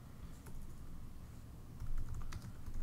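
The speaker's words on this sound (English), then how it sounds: "as I type things in" Keystrokes on a computer keyboard while entering paper description details into color proofing software for an Epson Stylus Pro printer; soft, scattered taps over a steady room hum, close and moderately quiet.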